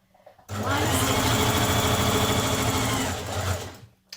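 A sewing machine stitches panels of a smock dress in one close, loud, rapid run of about three seconds, the steady mechanical chatter starting abruptly and slowing briefly before stopping.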